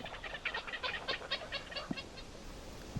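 Several birds call in quick repeated bursts by a riverbank where crayfish are hunted, the calls moderately loud against a steady outdoor background.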